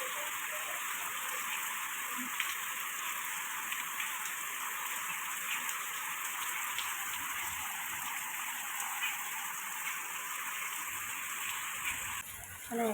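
Heavy rain pours outdoors in a steady, dense hiss that holds at an even level for the whole stretch, with faint scattered knocks underneath.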